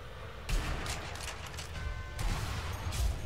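Springfield rifle fire in a video game: a few sharp, booming shots at about half a second, two and three seconds, set against a steady rumble of distant gunfire.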